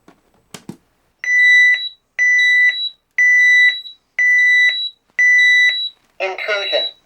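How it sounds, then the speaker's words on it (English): A 1992 CareTaker Plus home automation system sounds its burglary alarm as a loud, close electronic siren in five even, repeated tonal bursts separated by short gaps, preceded by a brief click and followed by a synthetic spoken voice. "so you'll be able to hear what the burglary siren sounds like"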